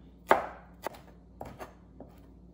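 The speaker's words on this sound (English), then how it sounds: "Chiffonade is you grab them in a bunch and roll them up, and then cut them in a thin strip" Knife chopping a bunch of rolled tarragon leaves into thin chiffonade strips, four or five crisp separate cuts on a board, close and fairly quiet.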